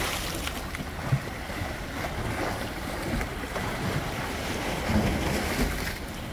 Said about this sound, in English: See how the water comes up like that?